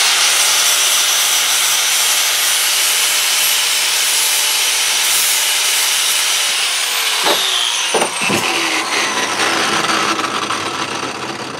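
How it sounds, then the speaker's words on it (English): Angle grinder smoothing uneven metal parts for a homemade Freddy Krueger glove, a loud continuous abrasive whine and rasp that runs steadily, with a few sharper scraping bursts near the end as the disc catches the edges. "you can take the grinder at this point and smooth out"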